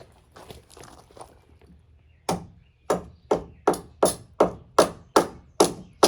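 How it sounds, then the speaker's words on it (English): A rigging axe chops into wood while shims are being split on a saloon build, landing about ten sharp, evenly spaced blows close by after a stretch of quieter handling noise. "Might need to chop it with the rigging axe"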